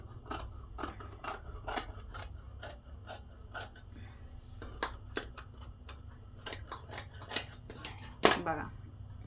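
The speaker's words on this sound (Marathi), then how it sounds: "एकमेकांवरती ठेवून कट करून घ्यायचे" Scissors cut through layered pieces of lining fabric in a quick series of crisp, close snips with short pauses, then a sharper final clack, over a quiet background.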